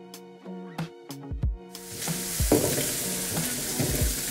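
Minced garlic hits a hot pan of softened, translucent onions with a rising sizzle and stirring scrapes, frying steadily and close up after a few utensil knocks at the start.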